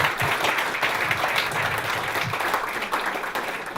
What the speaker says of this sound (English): I'd like everybody to give a round of applause to all the patients